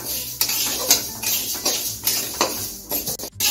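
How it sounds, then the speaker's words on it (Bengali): Mung dal being dry-fried and stirred in a wok over medium heat, with repeated scraping and clinking of a metal spatula against the pan in a steady rhythm, close and moderately loud, with no talking. "অনবরত নেড়ে চেড়ে ভাজতে হবে যাতে পুড়ে না যায়"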